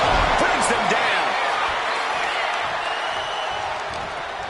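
A raucous wrestling crowd at an AEW show roars continuously and loudly, with scattered whistles and shouts riding over the dense din throughout.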